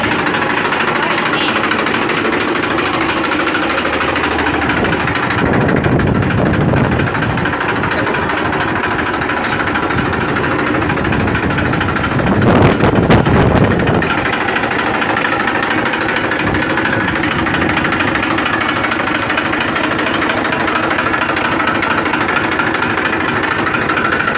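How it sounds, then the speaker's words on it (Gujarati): A 2017 Massey Ferguson 241 side-gear tractor engine runs steadily in a loud, continuous rumble that swells briefly twice, with no voice over it. "મેસી ફર્ગુસન બસો એકતાલીસ સાઇડ ગિયરમાં ટ્રેક્ટર તમને જોવા મળશે"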